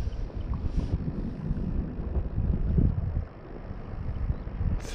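Wind roars across the microphone on a fishing boat out live-bait fishing for garrick, a continuous low buffeting rumble with gusts that rise and fall, and no voices.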